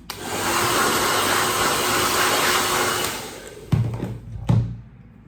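A hair dryer blows steadily to dry off a straight razor blade during sharpening, a loud, close, continuous whoosh that winds down and stops, followed by two brief handling knocks.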